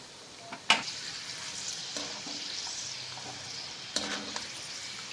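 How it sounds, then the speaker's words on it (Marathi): Cashew slices frying in hot oil for a maize chivda, a steady soft sizzle close by, broken by a few sharp stirring clinks and scrapes of a spoon in the pan. "आता आपण इथे काजू काप तळून घेणार आहोत"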